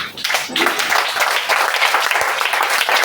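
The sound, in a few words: congregation applauding and cheering in church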